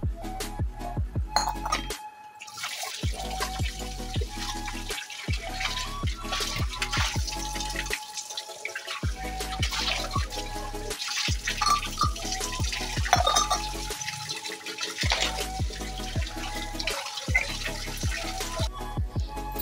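Metal pooja items being washed under a running tap, with water splashing steadily and frequent clinks and knocks of brass pieces against each other and the sink, close and continuous.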